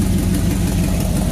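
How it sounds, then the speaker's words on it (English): A 1977 GMC Sierra Grande with a 350 engine, headers and a welded Thrush dual exhaust idles close by, giving a steady, deep, rumbling drone with no breaks. "but it's the Thrush exhaust. That's why it sounds like that."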